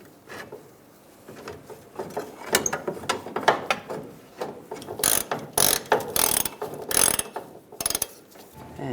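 A ratchet tightens the bolt on a fuel tank strap of a 1999-2006 Chevrolet Silverado 1500, with quiet handling first and then bursts of rapid clicking in uneven strokes, close and fairly loud.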